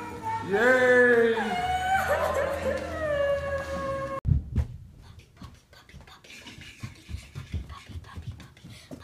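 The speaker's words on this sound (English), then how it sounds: "We have a doggy!" A puppy given as a Christmas surprise howls and whimpers in a long wavering whine, then excited family voices and chatter take over, the dog sounds fading beneath them.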